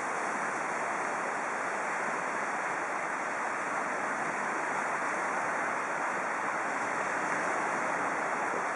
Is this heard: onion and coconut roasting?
no